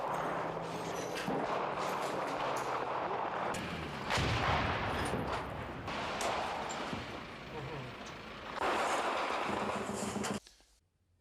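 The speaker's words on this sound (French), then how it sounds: "Et la base de Bien Hoa, dernier verrou avant Saigon, est pilonné." Artillery shelling and gunfire from war footage around Saigon and the Bien Hoa base in 1975, a dense roar of blasts and crackling shots under a voice speaking throughout, cutting out abruptly near the end.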